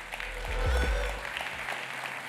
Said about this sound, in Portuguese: E eu queria então convidar e receber com uma salva de palmas Marcela Simonato, por favor.